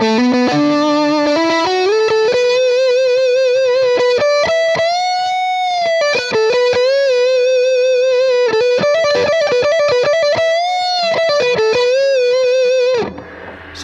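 A PRS SE semi-hollow electric guitar on its neck humbucker plays a loud, distorted lead line through effects, with sustained bent notes and quick runs ringing alone before the sound cuts off at the end.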